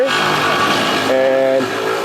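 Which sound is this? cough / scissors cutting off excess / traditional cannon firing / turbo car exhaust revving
turbo car exhaust revving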